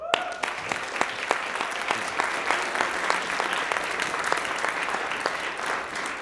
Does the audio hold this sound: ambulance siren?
no